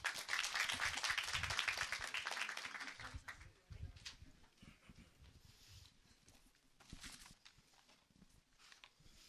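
Audience applause at a Seoul social welfare workshop, dense and fairly loud clapping for about three seconds, then thinning to scattered claps and shuffling among faint room noise.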